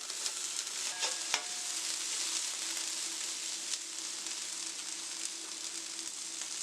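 Okra sautéing in a pan, a soft steady sizzle with a faint clink of a utensil near the start, quiet and alone without talk.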